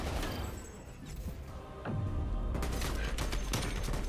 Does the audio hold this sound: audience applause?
no